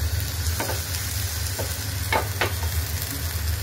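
Grated potato ghevar fries in a pan over a very low gas flame, a continuous soft sizzle with a few faint scraping touches and a low steady hum underneath.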